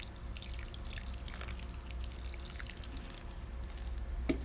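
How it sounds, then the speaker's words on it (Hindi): Water trickles and drips into a pot of seed soil for bell peppers, a soft, close patter and splashing over a quiet background, faint but steady, ending with a small knock. "अब हम इसके अंदर पानी डाल देंगे।"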